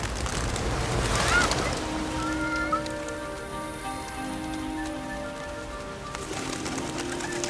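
Pigeons coo softly amid a steady rain-like patter, with occasional bird calls rising over the continuous wash of background noise.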